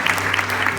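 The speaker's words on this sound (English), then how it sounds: "Big round of applause again" A press-conference audience claps for the film's director being called to the stage, a brief continuous burst of applause with a steady low hum beneath and no clear talk.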